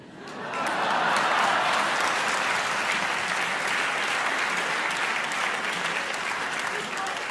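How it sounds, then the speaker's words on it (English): Audience applause fills a debate hall on science and God, a steady dense clapping that swells in within the first second and holds at an even level to the end, with no voices standing out. "I just want to invite one more round of applause for Robert Rosencrantz"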